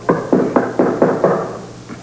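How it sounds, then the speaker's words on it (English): Knuckles rap on a door in a drama scene, six firm knocks in a quick even rhythm, close and fairly loud, followed by a softer trailing tap. "I'm going to get the door."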